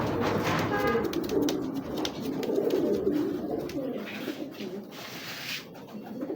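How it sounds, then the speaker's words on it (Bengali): A male racing pigeon coos close by in a pigeon sale setting, giving several soft, rolling coo phrases in a row, with faint background noise and no talk. "দেখেন মাশাআল্লাহ কবুতরটা কি।"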